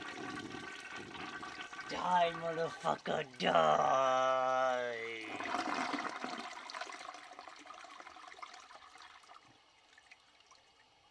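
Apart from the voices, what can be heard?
toilet flushing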